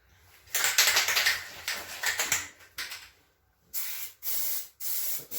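Plasti Dip aerosol can spraying coats onto a small ATV tank, a series of loud, close hissing bursts of varying length separated by short pauses.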